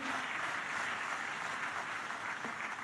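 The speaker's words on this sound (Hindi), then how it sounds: "तब आइए इस भवन को गुंजायमान कर दे हमारी तालियों की बौछार से।" Audience applause greeting Amit Shah inside a hall during a World Navkar Mahamantra Day event, a soft, distant, even wash of clapping lasting a few seconds.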